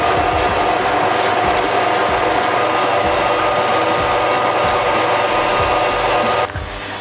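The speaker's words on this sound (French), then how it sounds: "je vais lancer mes blancs en neige" An electric mixer whips egg whites to stiff peaks for a pavlova, a loud steady motor whir with rhythmic ticking as the beaters knock the bowl, cutting off abruptly near the end.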